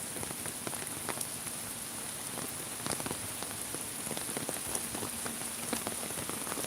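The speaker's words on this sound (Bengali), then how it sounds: "আপনারা দেখছেন যে এখনও প্রচুর পরিমাণে বৃষ্টি হচ্ছে" Steady, dense rain pours down in Sylhet and patters on surfaces, with occasional louder drips standing out from the constant hiss.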